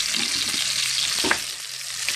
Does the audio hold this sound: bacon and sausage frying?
yes